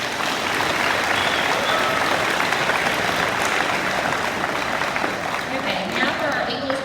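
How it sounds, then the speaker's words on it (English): Audience at a high school awards day claps in sustained, dense applause that stays steady and loud for several seconds, with a little crowd murmur underneath. "Give those students a round of applause."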